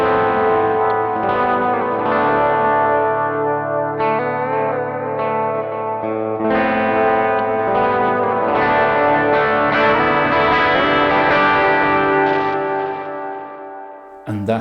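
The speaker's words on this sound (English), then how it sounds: "Add the transistor tape delay in for atmospheric stuff." Electric guitar through a Hotone British Invasion pedal with lush reverb and transistor tape delay, overdrive coming from the amplifier: sustained chords and ringing notes with echoing repeats, loud and steady, then fading at the end.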